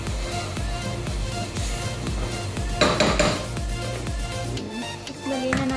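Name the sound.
mixing potatoes in a cooking pan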